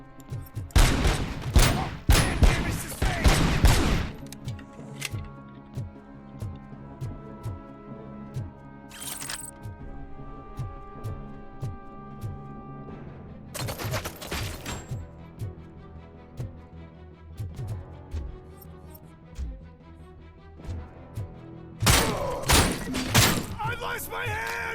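Video game gunfire comes in loud rapid bursts at the start, middle and end, separated by quieter stretches with music and voices.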